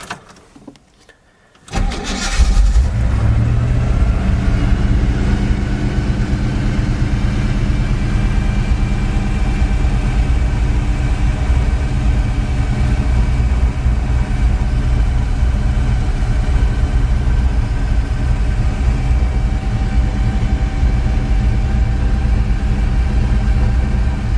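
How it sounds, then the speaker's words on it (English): A Chevrolet El Camino engine cranks and catches after a brief quiet moment, then settles into a loud, steady rumbling idle that runs on without pause. "And now I'll do an engine start."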